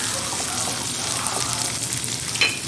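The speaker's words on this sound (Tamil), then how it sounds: "அதையும் கட் பண்ணி இதில் போட்டிருக்கிறேன் அந்த வெங்காயத்தையும் வதக்கிக்கலாம்" Small onions sizzle steadily in a pan as they are sautéed for a cauliflower pepper fry, a continuous close frying hiss with faint stirring clicks.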